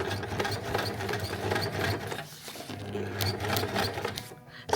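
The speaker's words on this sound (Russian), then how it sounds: "А сейчас я строчу вот сюда, в этот край." A sewing machine runs steadily and close by while stitching a reversible light jacket. Its rhythmic mechanical whir stops briefly once in the middle and then starts again, and there is no clear talk.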